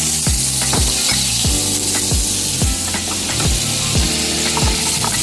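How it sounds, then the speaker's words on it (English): Butter sizzles in a pan heated to medium-high for chicken vegetable soup, a steady loud hiss running throughout, punctuated by regular low thumps. "Once our pan heats up, we'll start adding in our ingredients. We'll start with the butter."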